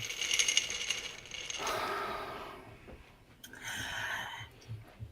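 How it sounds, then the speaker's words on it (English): Tabletop RPG dice clatter and rattle in two bursts, one in the hands and one on a surface, close and moderately loud against a quiet background. "he's double fisting his dice"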